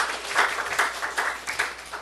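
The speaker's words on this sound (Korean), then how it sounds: "그렇게 하실 하나님께 박수 올려드립니다" A church congregation applauds together in a short burst of clapping that swells and rises in waves, steady and moderately loud, with no speech over it.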